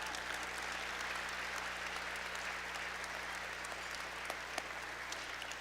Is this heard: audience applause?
yes